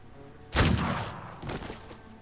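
A man's brain explodes in The Thaumaturge video game: one sudden loud burst that decays over a second, followed by a softer second swell, with no talk over it.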